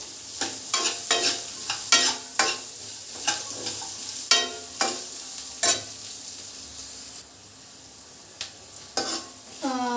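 Masala for a home-style chicken gravy fries in a hot pan, a steady sizzle broken by a dozen sharp spoon scrapes and clanks against the metal at an uneven rhythm, briefly quieter near the end, with no talking.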